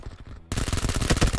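Rapid bursts of gunfire from a weapon in the mobile game PUBG Mobile, set in a school map during a 25 versus 25 battle, erupt loud and close after a brief quieter moment and continue densely to the end.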